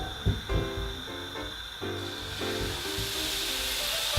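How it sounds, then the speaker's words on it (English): Pancake batter hits a hot frying pan after a few soft knocks and clatters. It breaks into a steady, bright sizzling hiss that fills the rest of the moment, close and moderately loud. "Oh yes, listen to it sizzle."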